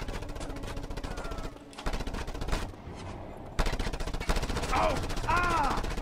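Incoming machine-gun fire in Just Cause 2, rapid continuous rattling bursts with brief gaps, fairly loud with a short vocal outburst near the end.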